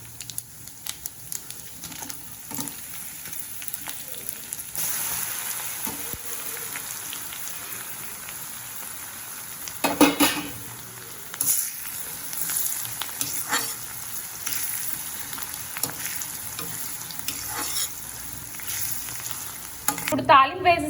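Dried red chillies crackle in hot oil for a tempering being added to a brinjal and red chilli pickle, a steady close sizzle with scattered pops and a few louder stirring bursts.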